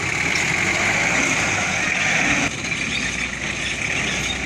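Mitsubishi L200 pickup engine revved under load with the transfer chain engaged, a loud sustained roar close by that drops to a lower, steadier level about halfway through.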